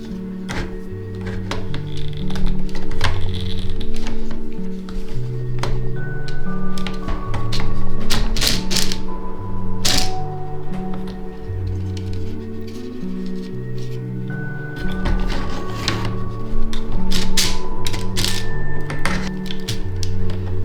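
A 3D printed sock knitting machine clatters in a steady mechanical rhythm, its needles tapping and clicking in repeating cycles with loud, regular thunks throughout, no voices present.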